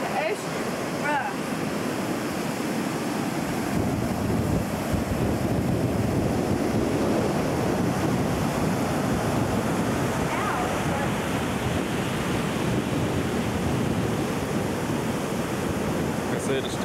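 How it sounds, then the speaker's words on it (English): Rough ocean surf pounds the shore ahead of Hurricane Hugo in 1989, a steady, loud wash of breaking waves mixed with gusting wind buffeting the microphone, continuous throughout with no clear pauses. "The ocean is rough."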